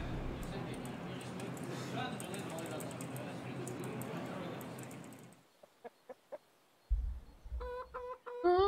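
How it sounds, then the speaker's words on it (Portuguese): In the Counter-Strike Inferno map, a video game, a few short chicken clucks sound after a burst of loud game noise, followed by more brief, close, squawking calls. "Ó o galo doido!"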